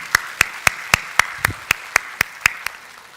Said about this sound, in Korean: 박수로 하나님 앞에 영광을 돌려드리십시오.